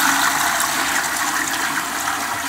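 A toilet flushing in Rishon LeZion gives a steady, loud, close rush of water that holds at an even level for the whole stretch, with no voices.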